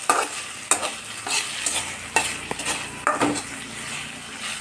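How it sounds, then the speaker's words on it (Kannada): Okra frying with oil, onion and tomato in a pan sizzles steadily while a spatula scrapes and clinks against the metal in repeated strokes, close and fairly loud. "ಬೆಂಡೆಕಾಯಿ ಇಷ್ಟನ್ನು ನಾನು ಬಾಣಲಿಗೆ ಫ್ರೈ ಮಾಡ್ತಾಯಿದ್ದೀನಿ."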